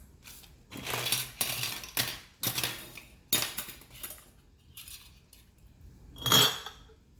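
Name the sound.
canning jars and lids being handled and washed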